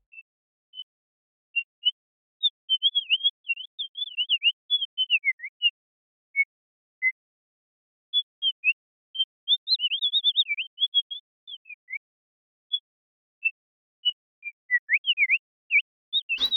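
Synthesized bird trills made in VCV Rack: short whistling chirps and warbling trills in scattered bursts and pauses, clean and alone against silence.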